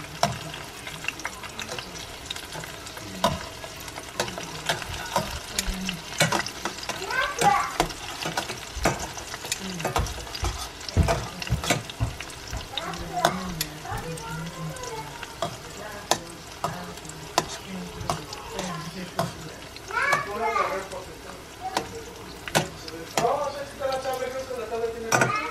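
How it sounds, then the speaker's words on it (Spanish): Chili peppers fry in a pan for salsa with a continuous close sizzle, punctuated by stirring scrapes and light clinks of utensils against the pan throughout. "Estoy friendo los chiles para la salsa."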